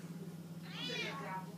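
A domestic cat gives a single clear, rising-and-falling meow close by, set against a low steady electrical hum in a quiet room.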